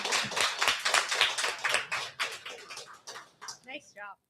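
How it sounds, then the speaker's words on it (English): Scattered, thin clapping from a few people in a radio studio, a loose patter of claps that thins out toward the end, followed by a couple of brief voiced sounds. "That was a very lackluster clap for you"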